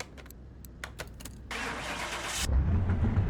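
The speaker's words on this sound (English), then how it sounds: "We start the engine and see what it sounds like." The Scooby-Doo Mystery Machine van, freshly restored, starts its engine with several brief cranking clicks, then a churning turnover that catches into a deep, loud, meaty idle close by.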